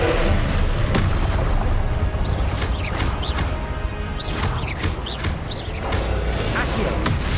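Confringo blasting spells burst in Hogwarts Legacy battle, several loud booms and crashes with whooshing swishes in quick succession, dense and near, with brief shouted voices.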